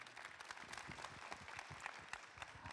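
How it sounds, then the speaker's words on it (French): Faint, distant audience applause at a convention panel with actors from Dallas at TGS Toulouse 2024, a soft patter of scattered hands clapping throughout. "on les applaudit s'il vous plaît"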